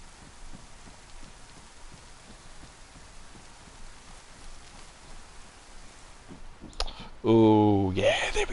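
Rain falls in the DayZ survival game on PS4 as a soft, even patter with light ticks. A loud burst of other game sound cuts in near the end.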